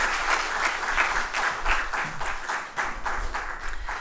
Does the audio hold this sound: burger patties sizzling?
no